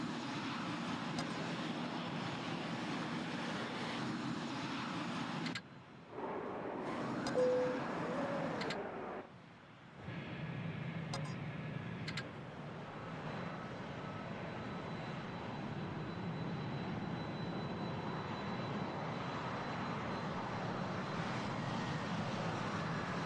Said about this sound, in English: So here's the aircraft that's landing